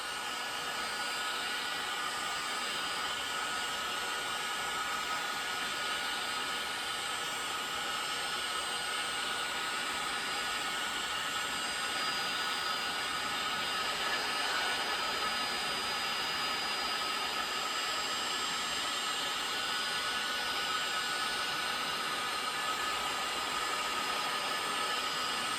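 A heat gun blows steadily and loudly, warming the inside of Yamaha Banshee crank bearings, a continuous broadband whoosh that holds even for about 25 seconds with no talking.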